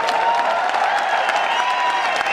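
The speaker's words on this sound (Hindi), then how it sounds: "इतनी तालियां" An audience at a product launch breaks into strong, sustained applause, mixed with a few cheers and crowd noise. The clapping sounds loud and close and keeps up at full intensity for the whole clip.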